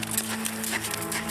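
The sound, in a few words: horse hooves clip-clopping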